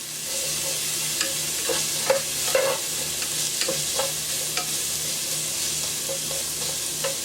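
Seasoned food being stirred around a hot pan while dinner is cooked, a steady close sizzle with repeated scraping and clinking of the utensil, no voices.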